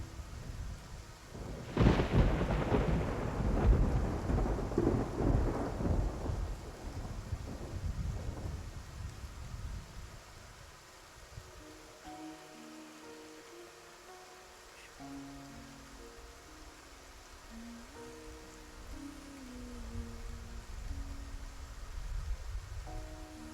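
A thunderstorm over the sea in the Love and Deepspace video game: a loud thunderclap and rolling rumble fade into steady rain and wind, with faint tonal sounds later.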